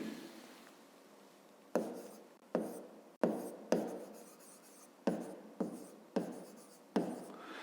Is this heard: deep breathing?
no